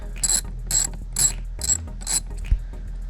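A hand ratchet clicks in five even bursts while backing out a Torx screw from a BMW 528i door during a handle replacement, close and crisp, with a faint tap at the end.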